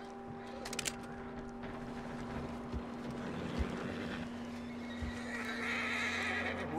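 A horse whinnies in a video game over a bed of clopping hooves and outdoor ambience, moderately faint and continuous, with no talking over it.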